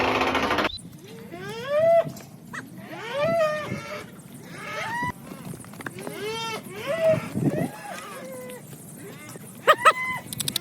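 Cattle lowing and bellowing in repeated calls on a cow farm in Saudi Arabia, several animals near and at varying distances, with a steady rumble of farm background noise.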